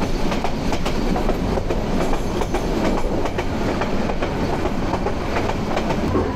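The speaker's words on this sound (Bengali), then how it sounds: "মালগাড়ি যাচ্ছে হুড়মুড় হুড়মুড় করতে" A freight train rumbles past close by near Chattogram railway station, its wheels beating a continuous rhythmic clickety-clack over the rails with a heavy, sustained roar and no voices.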